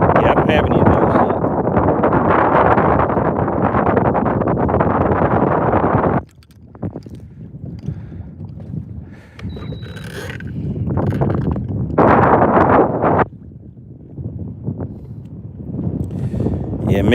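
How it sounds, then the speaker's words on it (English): Steady outdoor wind on a bass fishing outing rushes and buffets the microphone, loud at first, then easing into gusts mixed with faint mechanical clicks. "I don't know if you can hear that wind or not, but it's a little breezy out here."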